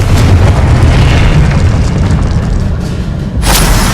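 A Confringo spell blast in the video game Hogwarts Legacy, a loud rumbling explosion that rolls on for a few seconds and ends in a sharp crackling burst.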